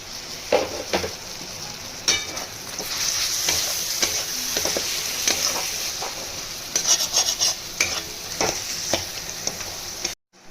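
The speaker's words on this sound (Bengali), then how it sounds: "এবার আমি আদা যে বেটে রেখেছিলাম সেটা দেবো, তার সঙ্গে কাঁচা লঙ্কাটাও দিয়ে দেবো" Ginger paste and green chillies hit hot oil in a pan for a mixed tadka, giving a continuous crackling sizzle close up, broken by repeated scrapes and stirring clinks of a spatula.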